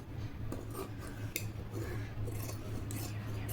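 Scissors snip through blouse fabric while cutting a katori blouse pattern, with soft irregular cuts close by over a steady low background hum and no talking.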